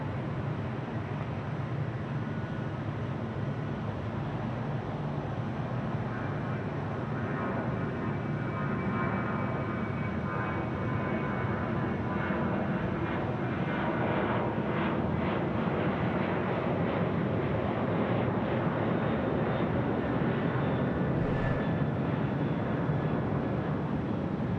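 An airplane departs Sydney Airport at night, a continuous distant engine roar that swells gradually over the clip, with no talking.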